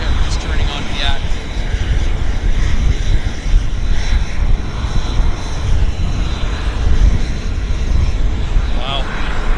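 A WestJet airliner turning onto the active runway at Vancouver airport, its jet engines giving a steady loud roar and rumble throughout, with faint whining tones rising now and then.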